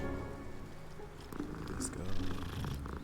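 A cat purrs in the video game Hogwarts Legacy, a soft rolling rumble under game music and effects, with a player's voice faintly mixed in.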